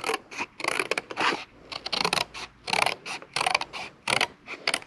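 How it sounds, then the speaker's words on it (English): Scissors snipping through cardboard while a robot-arm lever model is made, a run of short, sharp crisp cuts in irregular rhythm, close and fairly quiet with brief pauses between strokes. "I'm just gonna cut it to the end and then do the same for this line."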